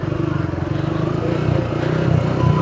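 A motorcycle engine running low on fuel, a close, steady rough idle-like drone with a pulsing rhythm that builds slightly in loudness over a few seconds.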